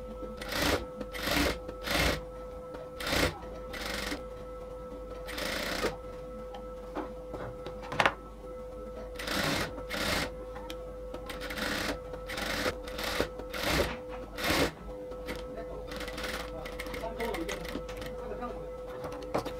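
A sewing machine runs a second line of stitching around the neckline of a nighty, starting and stopping in repeated short bursts with a steady hum between, while a person talks over it.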